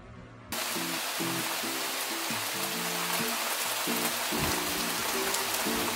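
Steady, dense rain hiss starts abruptly after a brief pause and continues throughout, with sustained musical tones underneath.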